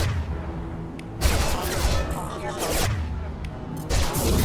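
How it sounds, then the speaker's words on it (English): Heavy gunfire erupts in a Mass Effect 2 firefight, a loud continuous volley of shots and booming impacts that swells in dense bursts with brief lulls between them. "Heavy fire!"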